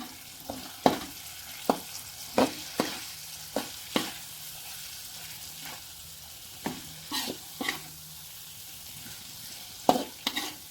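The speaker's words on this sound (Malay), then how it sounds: "Ini kita kacau balik ya." A spatula scrapes and stirs squid curry with eggplant in a sizzling wok, a series of sharp clanks at an irregular pace over a steady frying hiss.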